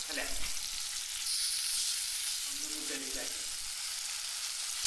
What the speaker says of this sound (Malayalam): അപ്പോൾ നമ്മൾ ആദ്യം മീൻ വറക്കുകയാണ് ചെയ്യുന്നത്.